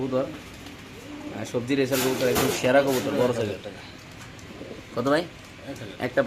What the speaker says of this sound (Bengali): এখানে আছে পঁয়তাল্লিশ নম্বর কবুতর কাছে একটা নর কবুতর